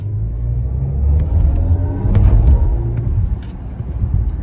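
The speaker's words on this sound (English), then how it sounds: "Let's see how fast we can go with this car." A BMW electric car speeds up, giving a low road rumble and tyre roar that builds gradually and peaks midway before settling, heard from inside the cabin with no talking.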